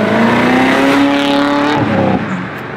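Straight-piped BMW 540i engine revving loudly and close, with a rising then falling exhaust note that cuts off sharply near the end, no talking.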